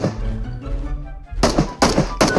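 Gunfire in a mobile shooting video game: several sharp, loud broadband bursts in quick succession after a low, rumbling stretch, close and punchy with no talk over them.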